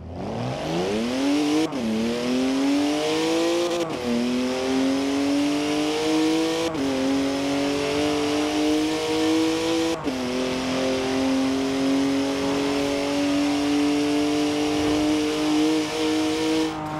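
Convertible car driven in Forza Horizon 4, its engine revving up loudly through repeated gear changes, with pitch climbing, dropping at each shift and rising again, steady and close with no talk.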